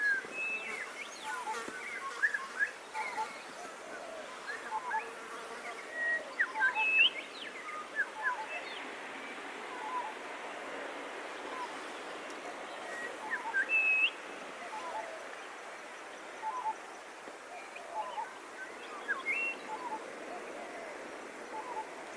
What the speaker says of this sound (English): That's a peaceful dove over there.